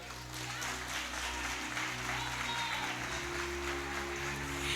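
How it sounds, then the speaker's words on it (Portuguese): Steady applause from a church congregation fills the space at a service, a dense even wash of clapping that carries on throughout at moderate volume. "É para Jesus essas palmas"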